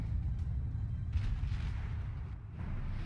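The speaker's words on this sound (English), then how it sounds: "Fire everything over there." Yamato battleship main guns firing in World of Warships, a dense rumbling low boom that sustains through the whole stretch, with a heavier swell near the middle and no voices.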